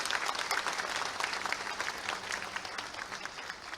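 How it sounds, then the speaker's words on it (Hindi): Audience applause at a Bihar Diwas 2025 gathering held in Madhya Pradesh, a dense sustained clapping from a large crowd, moderately distant, with no speech over it. "आदरणीय श्री रविंद्र जी से आप सबकी जोरदार तालियों के साथ मैं उनको आमंत्रित करूंगा"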